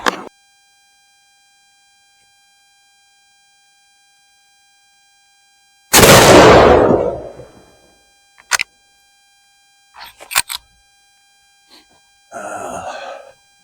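A .338 Winchester Magnum Remington 700 BDL rifle shot strikes a water target, giving one loud, sudden blast that decays over about two seconds, followed by a few short scattered knocks and a brief burst of noise.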